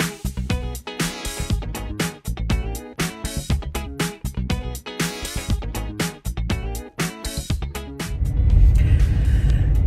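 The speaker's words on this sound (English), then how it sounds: "I'm just driving down our driveway" A car rolls down a home driveway with a rough, uneven rumble and choppy bumps, close to the microphone, ending in a louder, steady low roar.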